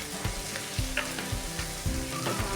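Beetroot sizzles as it goes into a hot frying pan and is stirred, with rhythmic scraping strokes every half second or so over a steady close crackle; nobody speaks.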